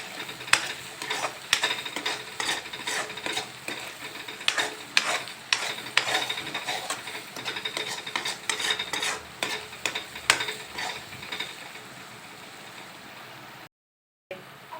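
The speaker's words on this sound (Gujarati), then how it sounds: "થોડી વાર મસાલાને પણ આવી રીતે સાતળવા દઈશું એટલા માટે મસાલા સારી રીતે ગ્રેવીમાં મિક્સ થઈ જાય" Masala and gravy for bhindi masala sizzle in a pan under brisk, rhythmic spoon scrapes, loud and close, easing to a quieter hiss before a brief silent gap near the end.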